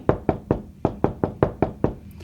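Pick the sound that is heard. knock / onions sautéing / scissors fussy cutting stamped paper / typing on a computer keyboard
knock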